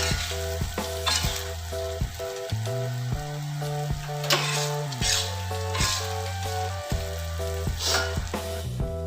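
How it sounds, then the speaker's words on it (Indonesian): Tempe and anchovy sambal fries in a pan while being stirred, giving a continuous close sizzle broken by repeated scraping strokes of the spatula against the pan, with no talking. "Aduk-aduk sampai semuanya tercampur rata ya bun."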